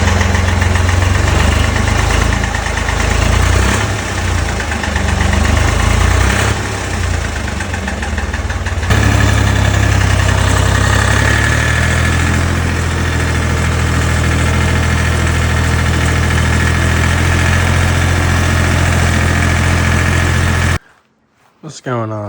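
Ford 3000 tractor engine running steadily close by, a loud rough low rumble with a knocking beat that settles into an even idle before cutting off abruptly near the end.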